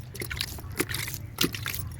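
Water poured onto a compost heap, soft wet sloshing and trickling splashes with a couple of brief louder spurts, close and alone.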